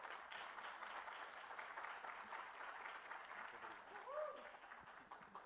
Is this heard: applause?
yes